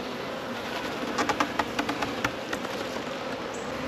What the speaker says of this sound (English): So we've got a lot of bees